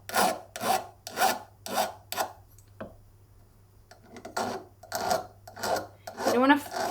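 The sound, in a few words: filing a silver necklace join with a half round needle file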